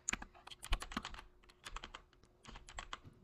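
Soft, quick keystrokes clatter on a computer keyboard in irregular bursts with short pauses, close and fairly quiet.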